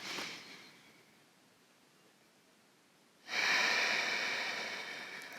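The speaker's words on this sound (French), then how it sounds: "Encore 2 grandes respirations comme ça." Deep, slow breaths during a yoga breathing exercise, a long soft exhale fading out, a pause, then a strong airy inhale that gradually tapers, close and intimate.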